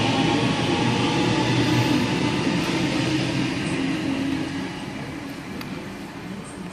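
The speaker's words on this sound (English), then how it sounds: "A13 now departing platform number 2, Hornsby via Macquarie University service." Passenger train pulling away from a station platform at night on the Hornsby via Macquarie University line, a steady loud rumble that slowly fades as it departs.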